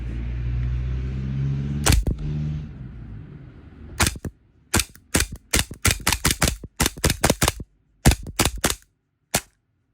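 An E&C 2101 5.1 Hi-Capa airsoft pistol fires semi-auto: after a brief mechanical rattle, about fifteen sharp, close snaps ring out in quick irregular bursts with silent gaps between them.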